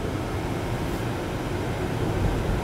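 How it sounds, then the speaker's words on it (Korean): The climate control blower fan of a Hyundai IONIQ 5 electric car runs at maximum, a steady, loud broadband whoosh of rushing air filling the cabin without change. "송풍을 좀 높게 올렸어요"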